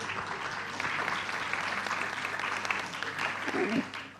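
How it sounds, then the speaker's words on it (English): A huge round of applause for the panelists at a business forum on jobs and investor confidence, crowd clapping held at a steady level for several seconds before fading out at the end. "a huge round of applause for our panelists"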